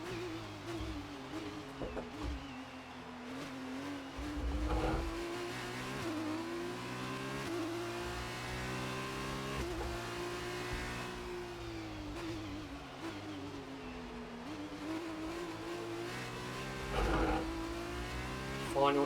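F2 race cars on the Hungaroring in F1 2018 during a sprint race. A high engine whine rises and falls with revving and gear changes, heard up close and steady throughout, with a commentator talking over it.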